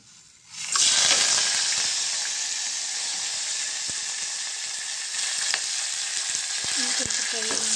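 Spices for tempering gongura dal hit hot oil with a sudden loud sizzle that settles into a steady, bright frying hiss, with a few faint clinks near the end.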